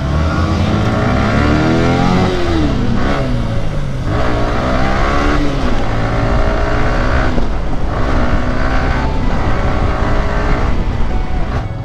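A KTM RC 125 motorcycle is ridden along a highway with a steady, loud engine drone. Its pitch rises and falls through repeated gear changes, with wind noise mixed in throughout.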